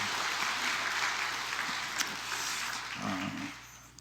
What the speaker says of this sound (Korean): 우리 격려의 박수, 응원의 박수 함께 하시겠습니다